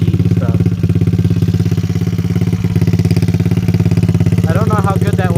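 A pit bike engine idles after a burnout, a loud, steady, rapidly pulsing mid-pitched thrum that runs continuously, close up, with brief voice-like chirps near the end.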